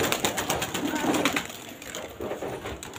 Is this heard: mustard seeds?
no